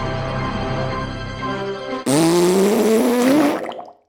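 A voice imitates a loud fart, giving one long, rough, buzzing blast that rises slightly in pitch and then trails off abruptly after about two seconds, alone and close.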